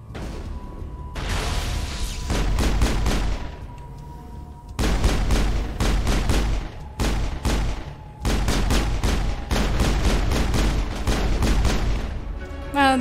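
Rapid bursts of gunfire in the video game Mass Effect, loud volleys of close shots in long runs with brief pauses between them.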